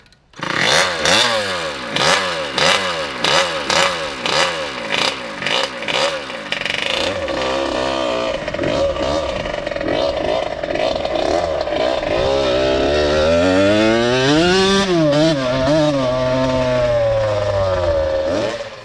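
A Harley-Davidson motorcycle swapped to a two-stroke engine revs on its first ride, giving rapid rising and falling blips followed by a sustained, sweeping high-revving run, loud and close with no talking.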